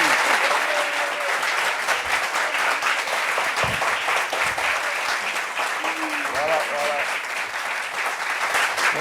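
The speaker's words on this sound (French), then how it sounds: "Applaudissements pour lui." Sustained, dense audience applause on a TV talk-show set as a guest is welcomed, steady clapping throughout with a few brief voices heard over it.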